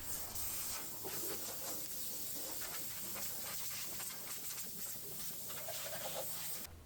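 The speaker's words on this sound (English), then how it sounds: "I start by using the cup gun with the 90-degree wand extension to spray all of the frame and body cavities accessible from underneath the vehicle" A cup gun fitted with a 90-degree wand extension sprays into the frame and body cavities under a vehicle, giving a steady, close, loud hiss of air and spray that barely varies before fading slightly at the end.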